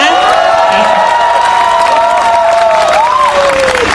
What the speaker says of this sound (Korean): 전국에서 그 지역구에서 열심히 그 투쟁하고 계시는 농민분들한테 멀리서지만 좀 박수 한번 보내주실 수 있겠습니까?